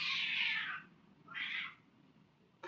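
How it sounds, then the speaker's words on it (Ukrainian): Cats yowl on a balcony: a long loud drawn-out cry, then a shorter yowl after a pause, heard alone and close, ending with a brief sharp click. "Ось коти почали кричати."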